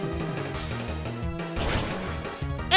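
Brick Break smashing through Light Screen in Pokémon White, a game sound effect of a hard crashing impact and shattering burst that swells midway through a short, busy stretch of game music.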